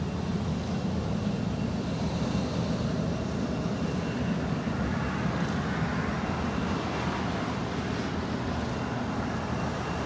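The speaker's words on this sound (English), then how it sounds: "That is Delta Connection Flight 3781 coming in from Tucson, Arizona. It's an Embraer E175LR." Delta Connection Embraer E175LR jet arriving from Tucson at Los Angeles airport, a steady distant broadband engine roar held at even loudness for the whole stretch with no talk.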